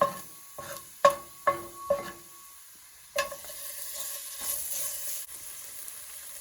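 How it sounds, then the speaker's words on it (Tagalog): Ginger sautéing in a pan for Ilocano pinakbet, after the meat has browned. A soft sizzle sits under a quick run of sharp spoon knocks, then a louder burst of frying with stirring scrapes. "Igisa natin hanggang mag-golden brown ang ating luya."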